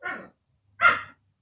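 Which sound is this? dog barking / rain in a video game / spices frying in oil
dog barking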